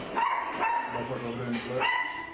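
A dog barks and yelps in short bursts during a tense street encounter, close and loud, mixed with people talking over it throughout.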